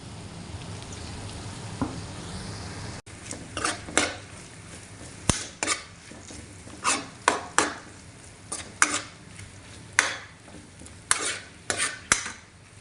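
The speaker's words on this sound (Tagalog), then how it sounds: "pag natunaw na nga po yung butter, ilagay niyo na po yung sibuyas." Onion and garlic sizzle softly in melted butter in a pan while a utensil stirs and scrapes, giving repeated sharp clinks over a low frying hiss.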